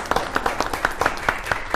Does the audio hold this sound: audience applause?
yes